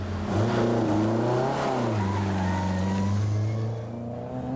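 A rally car on a stage of the 1989 Lombard RAC Rally roars past close by, its engine note climbing and then dropping as it revs hard through the location, loud and continuous with no talk.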